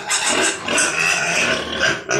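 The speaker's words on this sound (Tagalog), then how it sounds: "Kasama-sama na ang kambing at mga biik." Close, busy grunting and snorting of piglets penned together with a goat, several short overlapping squeals and oinks packed into a couple of seconds.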